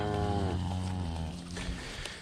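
A cow moos once with a long, low, drawn-out call that fades out, followed by quieter farm background, close by and with no talking.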